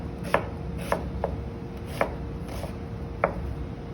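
A knife chops an onion on a cutting board in a home kitchen, about seven crisp separate strikes at an uneven pace, close and clear against faint room noise.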